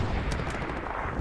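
Dense, sustained MG42 machine gun fire in the WWII shooter Hell Let Loose during a competitive tournament match, a continuous loud rattle of bursts with sharp cracks standing out near the middle, no talking.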